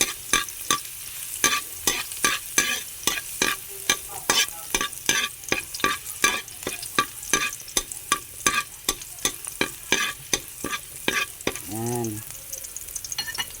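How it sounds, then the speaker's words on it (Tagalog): Stuffed squid sautéing in a pan, a steady bright sizzle broken by regular scraping strokes of a spatula stirring, close and loud, with no talking. "Igisa lang natin yan guys."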